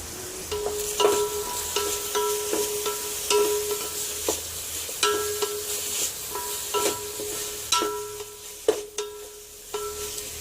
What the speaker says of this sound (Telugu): అలా ఒక ఒకసారి గెరిటితో కలుపుకొ కలుపుకుంటూ ఉండాలి